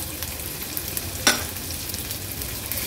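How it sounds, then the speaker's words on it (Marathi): Finely chopped onion added to a garlic-chili crush frying in oil for a Konkan-style jackfruit seed dish, giving a steady close sizzle with a brief clatter as the onion hits the pan. "नंतर एक मोठ्या साईजचा कांदा आहे बारीक चिरून घेतलाय, तो ऍड करूया।"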